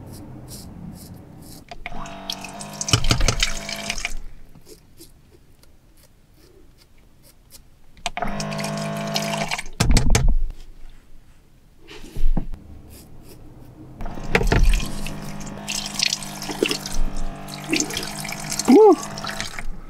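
Water runs from a tap in three close, splashing bursts with quiet gaps between them, used for shaving inside a small two-door car that serves as a van-life camper on the US East Coast.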